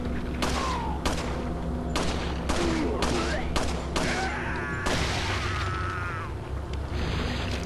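Gunfire in the video game Resident Evil 4 Separate Ways, with a series of sharp, irregularly spaced shots and thuds over a game soundtrack. Someone talks excitedly through it.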